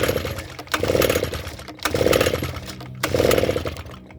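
An Echo PB580T backpack blower engine with a carburetor fault squirting fuel runs loud and close, revving up and easing off in three surging bursts, with a rough buzzing roar and no talk.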